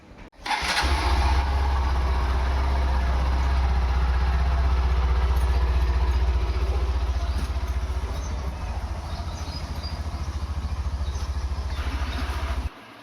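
A motorcycle engine, likely an Indian commuter bike, starts and idles steadily and loudly close by for over ten seconds with a low even throb, then cuts off at the end.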